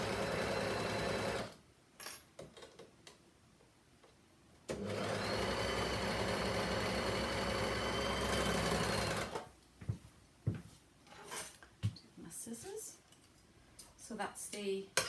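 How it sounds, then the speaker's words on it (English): Domestic sewing machine running zigzag or overcasting stitches on children's leggings, two sustained bursts of steady whirring motor, with talking in the quieter gaps between runs. "But remember, you can do this on your normal sewing machine."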